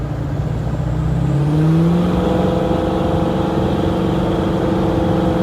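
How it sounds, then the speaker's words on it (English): A supercharged Fox-body Ford Mustang with an automatic transmission drones steadily under load at wide-open throttle, with a rising whine partway through as it pulls harder, continuous and fairly close with no talking. "we're just putting the car through its paces"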